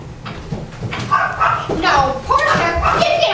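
A small dog barks and yips in a radio drama, several quick barks mixed with excited voices talking over it.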